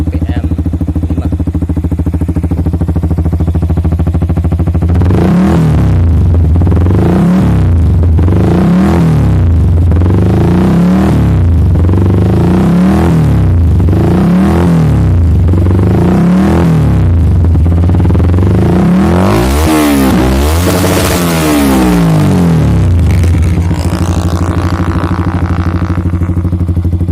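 Motorcycle with a WRX GP K1 aftermarket exhaust revved hard again and again, close and very loud, each blip rising and falling in a steady series, then a sustained run up against the rev limiter before dropping back.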